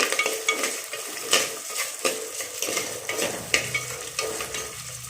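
A cut onion sautéing with rock salt in a pan, a continuous sizzle broken by rhythmic spatula scrapes and metallic clinks, close and fairly loud.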